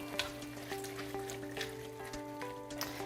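Fire-roasted diced tomatoes sizzling in a gumbo pot while being stirred, a soft continuous crackle with scattered louder pops and spatters, fairly quiet and without talk.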